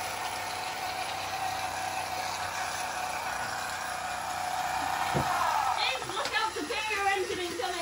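Wilesco toy steam engines, a D305 fire engine and a D366 steam roller, run in a drag race with a fast mechanical ratcheting chatter and hiss, close by, while people talk excitedly over the clatter.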